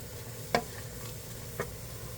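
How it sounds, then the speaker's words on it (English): Mushrooms cook in a little oil in a pan, giving a quiet, soft sizzle with two brief clinks or stirring taps, heard up close at low volume. "You can start to hear it sizzle a little bit"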